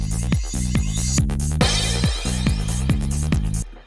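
Dense electronic dub-style hits from a Studio One production, with reversed delay swelling up as pre-echoes just before each hit, in a loud, steady rhythmic pattern.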